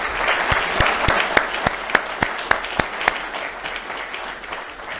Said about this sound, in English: we owe them a round of applause and support